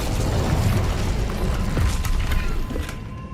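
An Incendio fire spell is cast in the Hogwarts Legacy video game: a dense, loud, sustained rushing burst with a low rumbling boom and some mechanical creaking, fading slightly near the end.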